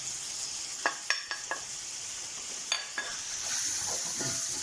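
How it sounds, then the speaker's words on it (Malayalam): Masala spices being stirred and sautéed in a pan for Arabic chicken madhruba, with a steady soft sizzle and several sharp clinks of a spoon scraping the pan. "അത് നല്ല രീതിയിലൊന്ന് വഴറ്റി എടുക്കണം"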